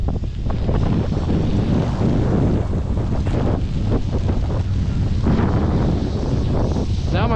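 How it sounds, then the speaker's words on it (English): Strong gusty wind with incoming sleet at Snow Summit Ski Resort buffets the microphone in loud, continuous rushing roars with uneven surges. "Oh yeah, that wind's gnarly."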